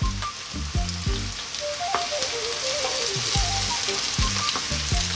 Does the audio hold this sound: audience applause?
no